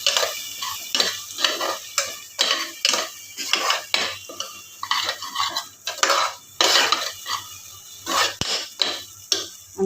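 Masala paste frying in a pan over medium flame, with a spoon scraping and stirring in repeated rhythmic strokes over a soft, continuous sizzle, close and clear with no talk.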